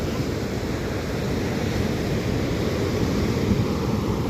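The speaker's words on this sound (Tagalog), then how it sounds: "Malakas ang alon." Strong sea waves roll onto a beach as a constant, loud broadband roar of surf, mixed with wind buffeting the microphone, with no voices.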